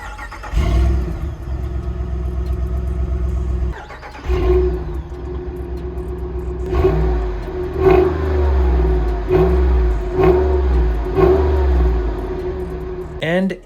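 The 6.4 liter V8 of a 2022 Jeep Grand Wagoneer idles, cuts off, restarts, then revs repeatedly in short bursts, each rev swelling loud and dropping back to a rumbling idle.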